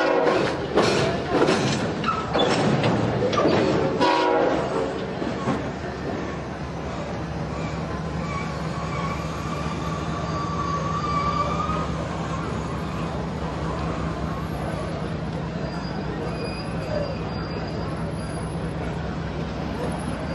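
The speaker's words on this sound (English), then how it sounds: "With the UP train out of the way, the coil train continues west toward Los Angeles." A Santa Fe coil freight train rolls west toward Los Angeles near San Bernardino, a broad continuous rumble of wheels and engines with heavy thumps early on, then a steady droning roar with faint high squeals.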